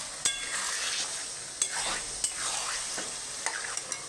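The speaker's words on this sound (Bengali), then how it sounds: "ঢাকা ছাড়াই মাংসটাকে খুব সুন্দরভাবে কষিয়ে নেব" Chicken curry meat for a home-style deshi chicken curry is stir-fried in an open, uncovered pan, a steady close sizzle broken by several sharp scrapes and clacks of the spoon stirring through the meat.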